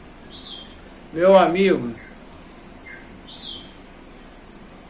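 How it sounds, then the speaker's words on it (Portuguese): A caged coleiro (double-collared seedeater) gives two short, high chirps near the start and again toward the end. A voice speaks briefly in between. "vocês vão ver esse passarinho cantando com essa puxadinha aí"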